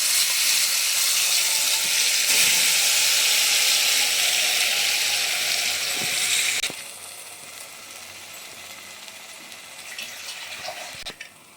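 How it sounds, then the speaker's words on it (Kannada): Chili powder dropped into hot oil for a homemade fish sambar gives a loud, continuous close-up sizzle that hisses strongly for several seconds, then settles into a quieter, steady frying crackle. "ಎಣ್ಣೆಗೆ ಹಾಕಿದ್ದೆ ಕಾದಿದ್ದೆ ಅದಕ್ಕೆ ನಾನು ಖಾರ ಹಾಕ್ತೀನಿ"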